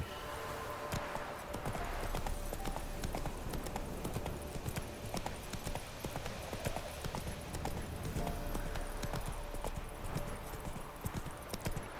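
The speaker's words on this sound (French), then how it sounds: "Allez, viens là mon cheval." Steady hoof clip-clops of a galloping horse in The Witcher 3, continuous over a busy, dense game background with faint voices mixed in.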